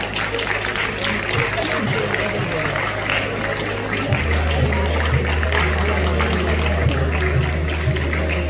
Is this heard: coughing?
no